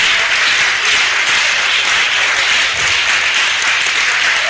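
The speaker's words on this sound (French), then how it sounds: "Si c'est pour le Seigneur Jésus, il faut faire un tonnerre d'acclamation pour que l'on l'entende depuis Achangbade." Thunderous applause from a church congregation, dense and loud, sustained steadily throughout without a break.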